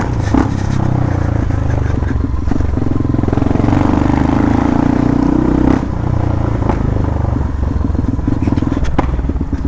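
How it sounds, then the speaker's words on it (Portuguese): A Yamaha Lander motorcycle fitted with a Bell Parts exhaust and running on ethanol rumbles loud and close, revving and swelling in the middle before settling back to a throbbing idle. "Esse escape que eu uso é um Bell Parts."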